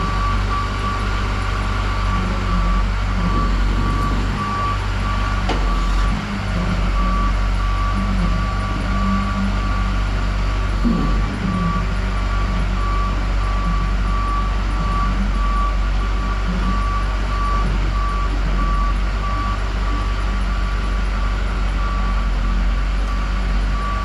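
Truck reversing alarm while a vehicle backs out of a tight doorway, a steady repeating electronic beep held at one pitch over a loud low engine rumble, continuous and close throughout.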